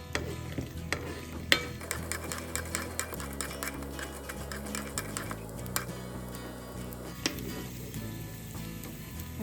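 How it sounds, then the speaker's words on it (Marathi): Edible gum pieces fry in hot ghee for a traditional Janmashtami sunthwada, a steady close sizzle broken by occasional clinks of a spoon stirring against the pan, with no voices. "डिंक तुपामध्ये तळून घेतला ना की तो असा छान फुलतो आणि मग मस्त क्रिस्पी होतो तो."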